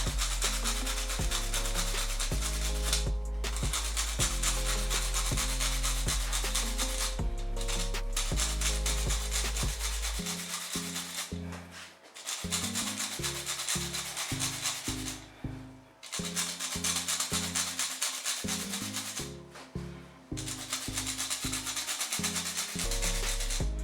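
A carrot being scraped repeatedly, a close, loud rhythmic rasping with steady back-and-forth strokes and a few brief pauses between passes.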